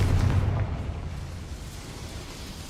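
A Confringo fire spell bursting in Hogwarts Legacy, a deep rumbling blast that is loudest at the start and then fades into a low, sustained roar with no talking.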